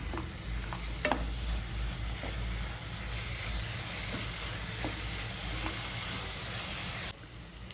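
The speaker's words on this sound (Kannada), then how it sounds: "ಬೆಂಡೆಕಾಯಿನ ಸೇರಿಸಿ ಮಿಕ್ಸ್ ಮಾಡಬೇಕು." Okra being stirred into a frying pan for bendekayi palya, a steady close sizzle and hiss running throughout with a few soft scraping stirs, no voices.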